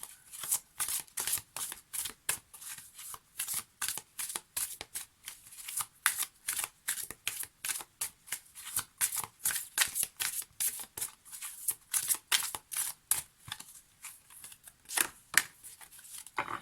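Oracle cards are shuffled by hand for a tarot reading in a long run of crisp, rhythmic riffling bursts, close and clear with no talk over them.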